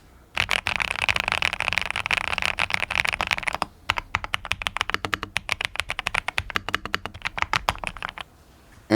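Typing on a PIIFOX Walker75 triple-mode mechanical keyboard with magnetic switches, set on a table: rapid, close clacking keystrokes in dense bursts, with a brief pause partway through and a quieter trailing patter at the end.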